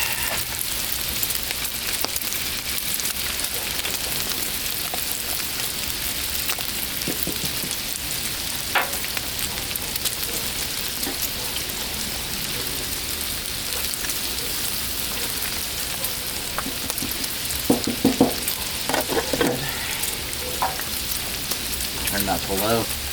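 Cheeses fry on a Blackstone griddle and get stirred, giving a continuous rain-like sizzle throughout with scattered spatula scrapes and taps that grow busier near the end.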